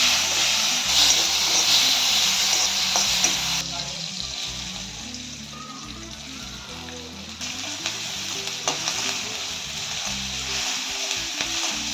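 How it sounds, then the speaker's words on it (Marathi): Tomato with ginger and garlic frying in a pan for a Malvani chicken dish, a steady close sizzle with occasional stirring scrapes, softening briefly midway before rising again, with no talk over it. "तसंच टमाटर, त्यामध्ये थोडं अद्रक लसूण घालून भाजून घेऊ आपण।"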